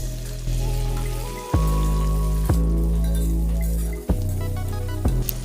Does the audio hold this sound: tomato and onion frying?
yes